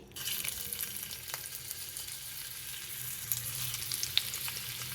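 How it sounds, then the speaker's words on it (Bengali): Beetroot slices fry in hot oil for a stuffed beetroot and tomato fry, giving a steady, close, fairly loud sizzle that carries on evenly throughout, with a few faint clicks and no talking. "তেল হয়ে গেছে। আমি বিটটা আগে দিয়ে দিচ্ছি।"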